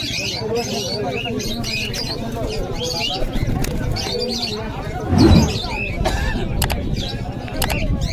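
Pigeons coo and chirp nearby at the Beldanga pigeon market, over a busy background of crowd babble, with one brief louder thump midway.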